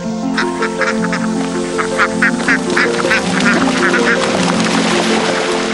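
Geese and ducks kept on the surface of a multilayer fish-farming pond call in a busy chorus of repeated quacks and honks, layered over a steady hum of background sound.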